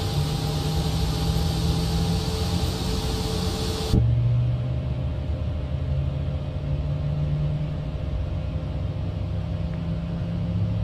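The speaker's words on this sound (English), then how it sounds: "Now the engine 2 is starting." Engine 2 of an Airbus A220-300 spinning up in a flight simulator game: a loud steady rumbling whine that abruptly changes character partway through into a lower, droning hum, with no talking.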